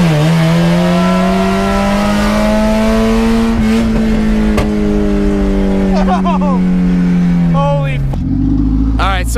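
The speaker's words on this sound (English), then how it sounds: "there's no exhaust on this thing and it's loud as shit" A loud Mazda Miata engine with no exhaust roars and revs close by, rising and falling, then cuts through sharp pops as the pitch drops near the end.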